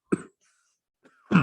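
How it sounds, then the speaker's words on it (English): A single sharp cough from someone who breathed in a little Albarino wine while tasting, followed by a short pause, a faint catch of breath and a second harsher cough or throat clearing, all close and alone. "I may cough."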